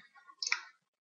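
A single quiet computer mouse click sounds close up in an otherwise near-silent room, brief and crisp.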